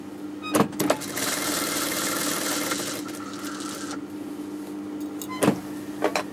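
A sewing machine hems a boy's jubba, running in a steady whirring stitch burst for about three seconds between short clunks and clicks of handling, close and fairly quiet, without talk.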